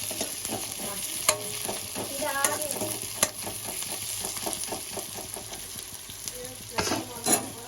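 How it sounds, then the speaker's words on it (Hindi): Onions frying and being stirred in a pan for a Chhattisgarh paira mushroom curry, a steady sizzle with scraping spoon strokes and a few sharper clinks against the pan. "प्याज पूरा भुना गया है"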